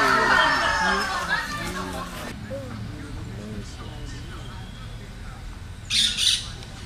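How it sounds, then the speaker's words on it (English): A parakeet squawks in a tropical setting at Palenque, Mexico, with a burst of harsh, loud calls at the start, then quieter background bird sounds and a brief high chirp near the end. "Parakeet."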